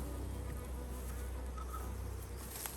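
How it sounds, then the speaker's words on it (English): Honey bees from a freshly caught swarm hum steadily around a hive entrance, a dense close-up buzz with occasional individual bees droning past. "And there is a lot of bees in there."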